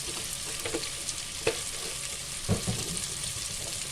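Spices fry in oil with taro leaves and dried fish, giving a steady close sizzle with a few soft clicks of stirring and no talking.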